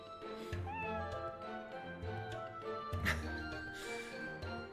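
A cat character in the video game Another Eden meows several times in drawn-out, tonal calls over game background music, with a voice speaking at points.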